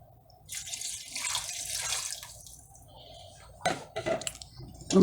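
A cup of water pours into a cooking pot of beef and squash, a short splashing gush followed by lighter drips and a knock of cookware, close and fairly quiet.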